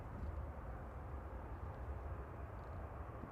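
An airplane passes at Manchester Airport, a steady broad rumbling roar that holds evenly throughout, heard from some distance with no talking.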